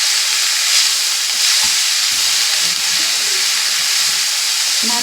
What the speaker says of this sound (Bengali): অল্প অল্প করে কড়াই শাকগুলো দিয়ে দেবো এর ভেতরে, অল্প অল্প করে দিয়ে একটু নেড়ে নেব